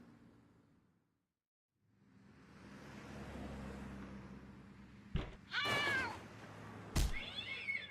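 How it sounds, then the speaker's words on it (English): A cat in the Randal's Monday video game lets out a loud, close, drawn-out wavering meow, followed by a short sharp yowl, over a low rumbling background. "I got rid of that stinking cat"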